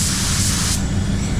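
A Sagola 4600 Clear spray gun sprays, giving a loud, constant airy hiss close to the mic that runs without a break, with no voices.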